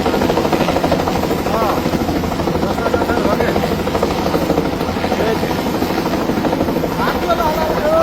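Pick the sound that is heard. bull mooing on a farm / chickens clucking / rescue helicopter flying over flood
rescue helicopter flying over flood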